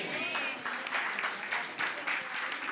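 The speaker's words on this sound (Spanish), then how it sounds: "¿Quién quiere dar un aplauso?" A congregation at a church sermon gives a short burst of applause, moderately loud and rippling for a few seconds.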